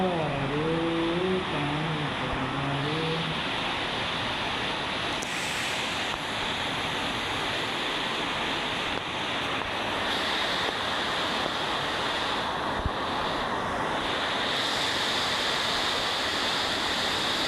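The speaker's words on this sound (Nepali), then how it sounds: "पानी ठुलो पर्यो" Heavy rain pours down in a loud, steady roar that fills the whole stretch, with a brief wavering tonal hum near the start.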